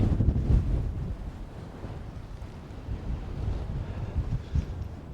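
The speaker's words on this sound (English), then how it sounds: "Very breezy on top of here" Strong wind buffets the microphone on an exposed fell top in the Lake District near Whinlatter, a constant low rumbling roar with gusty swells and no voices.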